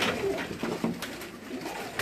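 Pigeons from a loft of about a hundred birds cooing close by, a few short low coos rising above a busy, hissy background.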